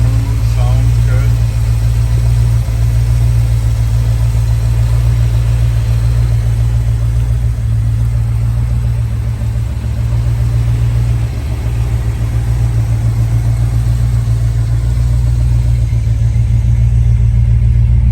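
A 1974 Dodge Dart idles steadily, a low, even engine rumble close by that stays smooth and constant throughout.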